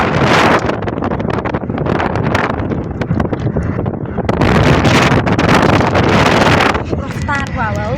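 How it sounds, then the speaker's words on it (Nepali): Rushing wind buffets the microphone while travelling fast on the road to the airport, a loud continuous roaring gust that swells and dips, with a voice speaking briefly near the end. "रफ्तारको हावा हो"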